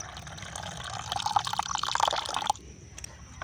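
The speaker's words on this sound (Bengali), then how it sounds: "আমি এখানে আরও এক বাটি জল দিয়ে দেবো আমি এখানে আবারও একটু উষ্ণ গরম জলই দিয়ে দিচ্ছি" Warm water pours from a bowl into roti batter for about two and a half seconds, a close splashing, gurgling stream that stops abruptly, leaving faint drips.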